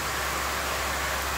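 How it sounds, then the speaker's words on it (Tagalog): Heavy rain in the Philippines, a dense, continuous hiss of downpour filling the whole moment with no pauses and no voices. "Grabe ang ulan."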